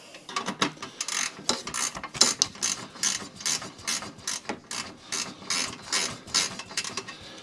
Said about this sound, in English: So what I'm going to do is just going to loosen off this bolt here which should be a little tiny 10 mil.